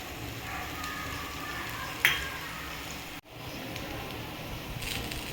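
Bombay duck (bombil) fish frying in oil in a pan, a quiet, even sizzle running throughout with one faint clink partway and a brief dropout, no voices.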